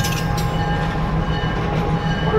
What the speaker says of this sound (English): We'll run the train around